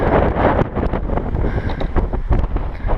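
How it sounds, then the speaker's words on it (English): Gusty wind buffets the microphone at a lakeside campsite, a loud rumbling roar that swells and dips without a break. "Hope the wind dies down just a hair"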